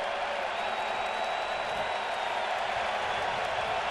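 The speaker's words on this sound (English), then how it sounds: "Now this crowd getting loud." A big crowd at a Yankees versus Blue Jays baseball game keeps up a loud, steady roar with rising cheers, a continuous wash of noise with no breaks.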